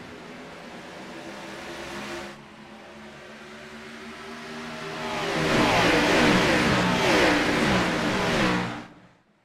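Stock cars racing at Atlanta in a racing game, engines droning and then swelling into a loud, rising roar as the pack passes close before fading.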